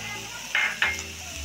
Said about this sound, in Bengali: দেখুন আমি অনবরত নেড়ে চেড়ে ভেন্ডিটাকে ভেজে নিচ্ছি